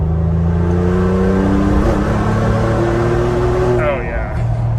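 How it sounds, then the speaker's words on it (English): A tuned Ford Bronco Wildtrak running on E30 pulls hard in 5th gear, a loud sustained engine drone with steadily rising tones and a brief high chirp near the end. "I left that in 5th gear and just let it pull"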